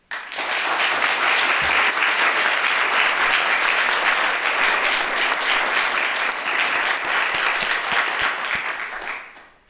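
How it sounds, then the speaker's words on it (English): Sustained applause from an audience rewarding students after classroom presentations at an education seminar, steady dense clapping that fills nearly ten seconds before tapering off at the end. "Even though you just gave them a round of applause, they did a wonderful job, these students up here."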